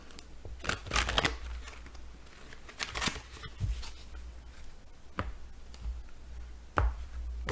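A deck of Archangel Animal Oracle cards is cut and shuffled up close, giving soft papery riffles, slaps and taps in irregular bursts, with quiet stretches between them.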